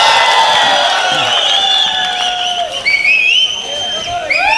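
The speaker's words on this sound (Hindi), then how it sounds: "जोरदार तालियों से आप इनका इस्तेमाल फरमाएं।" Shrill piercing whistles from an audience at a Malegaon mushaira poetry gathering, several rising and falling whistles overlapping with crowd cheering and babble, loud and close, continuing throughout.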